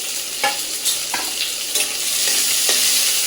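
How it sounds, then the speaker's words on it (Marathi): Onion frying in a pan gives a loud, steady sizzle, broken by several quick scraping stirs of a spatula close to the listener, with no voices. "आता हा कांदा चांगला भाजून घेतला"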